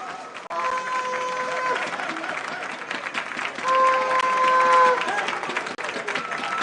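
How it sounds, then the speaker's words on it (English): Audience applause and cheering at the NSMQ 2025 grand finale quiz for Mfantsipim School, a dense, steady crowd wash lasting several seconds, with whistles or horn tones rising above it and swelling near the end. "round of applause, a round of applause"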